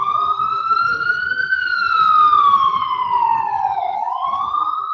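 An ambulance siren wails loudly and continuously with a slow rising and falling pitch, street noise and murmuring beneath it.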